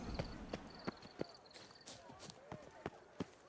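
Horse hooves clip-clop in The Witcher 3, sounding as a steady series of sharp, evenly spaced hoofbeats close by, with faint speech underneath.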